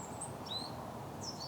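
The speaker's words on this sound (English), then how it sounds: "this kind of bird song, which kind of I'm used to." Birds sing outdoors in the UK, with a few thin, high chirps and whistles scattered over a soft background hiss, faint and distant with no voices.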